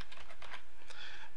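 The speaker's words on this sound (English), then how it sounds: "So I'm going to type in Galactica," Keystrokes on a computer keyboard as a computer name is typed in, a short burst of several quick clicks, close and fairly quiet, with no talking.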